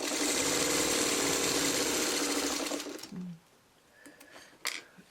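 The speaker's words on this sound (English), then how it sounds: "Now I'm going to sew those two together." A sewing machine runs steadily for about three seconds while joining checkerboard quilt blocks, a close, dense mechanical whir, then stops, leaving faint small clicks and fabric handling.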